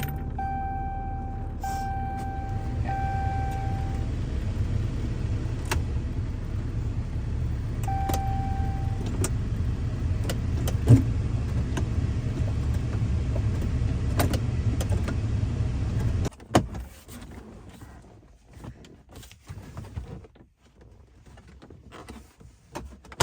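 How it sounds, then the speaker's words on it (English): A Ram 3500 pickup idles steadily with a low, even engine rumble for most of the stretch, broken by faint clicks and brief tones, before cutting to quieter handling noises near the end. "let's do a couple quick tests with the car running to make sure that it knows it's in gear"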